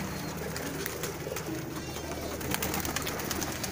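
An old pet pigeon coos softly and pecks at food up close. Faint voices and background noise run underneath.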